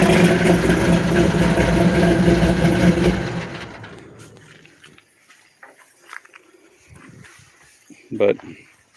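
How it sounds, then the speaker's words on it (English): A truck engine fitted with a roller cam idles loud and rumbling for about three seconds, then fades into quieter background noise while people talk nearby. "roller cam sounds pretty good in here"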